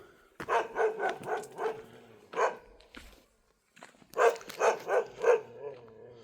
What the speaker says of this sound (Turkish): Evet köpek yine durmuyor.